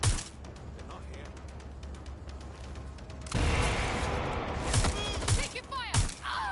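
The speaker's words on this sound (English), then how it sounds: "Taking fire! I can deal this. I can deal this. I'm getting shot at here." Gunfire in Watch Dogs Legion rattles toward the player as bursts of sharp shots, starting with a rapid string of reports, then growing louder and denser with impacts.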